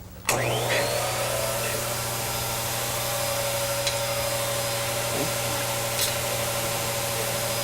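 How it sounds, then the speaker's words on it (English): Steady broadband hiss of air streaming out of the small holes of a physics-demonstration air track, starting abruptly and holding level with a constant hum beneath, close and fairly loud, with a few faint knocks. "And air is going to blow out."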